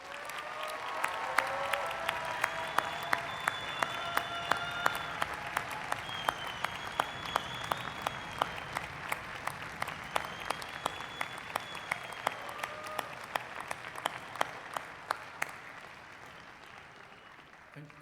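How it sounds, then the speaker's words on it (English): Sustained audience applause fills a graduate commencement ceremony hall, steady dense clapping with sharp individual claps standing out, continuing for the full stretch and gradually thinning toward the end. "would all the newest doctoral recipients and their doctoral advisors please stand up for another round of applause, please?"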